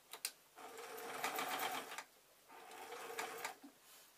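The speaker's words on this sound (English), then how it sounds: "Or convincing the machine to sew." A sewing machine stitches fabric in two short runs of fast, even mechanical chatter, quiet and close, separated by a brief pause and small handling clicks.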